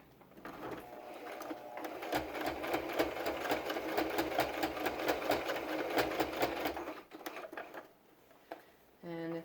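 A sewing machine stitches elastic onto a cloth face mask, running in one long rapid burst of needle strokes for several seconds before slowing and stopping, followed by a brief mechanical whir.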